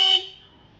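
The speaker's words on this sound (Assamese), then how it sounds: "এইটো কোন হয় ইমানকে হৰ্ণ মাৰিছে" A vehicle horn gives one short, loud honk outside, then its sound fades quickly into quiet.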